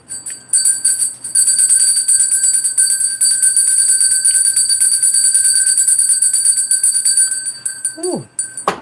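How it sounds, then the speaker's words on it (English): A bell rung continuously for several seconds during a tarot reading, a steady bright ringing with rapid repeated strikes that stops near the end, followed by a brief vocal sound. "I'm going to ring that bell."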